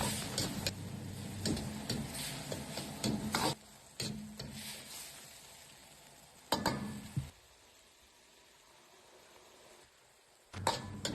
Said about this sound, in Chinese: 再倒入切好的香菇和西红柿丁翻炒， 放入少许的食盐一起翻炒